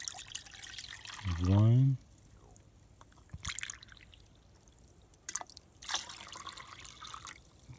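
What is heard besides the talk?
pouring water into a canteen cup for grits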